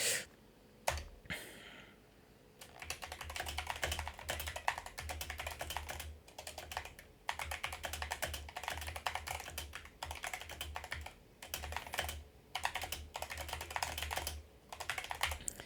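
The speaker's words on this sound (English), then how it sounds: "You most likely did hear me typing" Someone types steadily on a computer keyboard, close and fairly quiet, in bursts of rapid clicking with short pauses between them and no talk.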